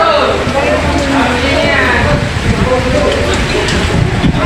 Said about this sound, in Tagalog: Kinakarga na. Kahit umuulan eh.